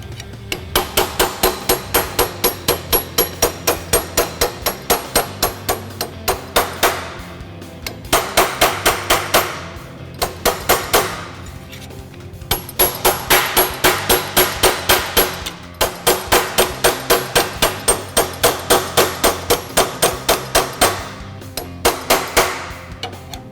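A one-pound hammer striking a caulking chisel to form a sheet metal header panel, rapid steady blows in long runs separated by short pauses, loud and close with no talk.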